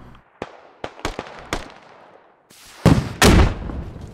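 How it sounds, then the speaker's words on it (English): A frag grenade detonates in a military video game amid a string of sharp, distant gunshot-like cracks, then two heavy, loud blasts close together near the end. "Frag grenade goes out."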